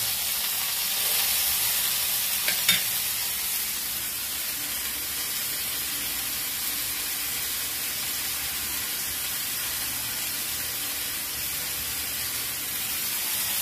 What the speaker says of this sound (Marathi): जसं आपण रेग्युलर मच्छी तळतो ना, सुरमई फ्राय वगैरे करतो ना, तसं ते फ्राय करायचं